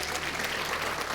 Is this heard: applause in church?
yes